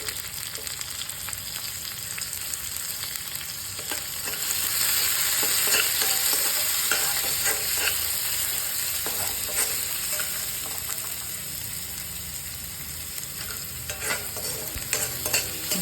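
Tomato sautéing with onion and a pinch of asafoetida in a hot pan, a continuous close sizzle and crackle that swells midway, with scraping stirs and no voices.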